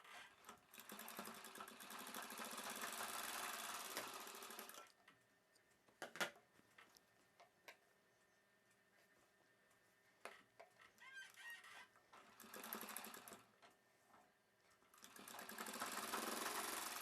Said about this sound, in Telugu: ఈ మార్కింగ్ పై వైపునే పెట్టేసి ఈ పీసుల్ని మనం కుట్టు వేసేసుకోవాలి